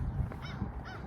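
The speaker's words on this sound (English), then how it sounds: "My friends the crows." Crows caw outdoors along the Ice Age Trail, two harsh calls close together over a breezy rumble.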